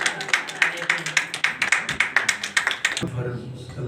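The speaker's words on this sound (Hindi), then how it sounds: "कलाम को और खुदा के बंदा को वेलकम करेंगे जोरदार तालियों में।" A crowd at a church sermon claps in a quick, steady rhythm for about three seconds, then the clapping stops and a voice continues.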